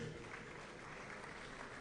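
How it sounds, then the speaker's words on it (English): Steady, faint applause from an audience at a government swearing-in ceremony for new commissioners and special advisers, a dense wash of clapping that holds evenly from start to end with no voices over it. "Please, a round of applause again for him."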